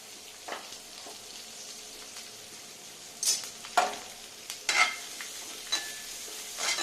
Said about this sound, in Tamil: நல்லா இந்த வெங்காயம் வதங்கணும்.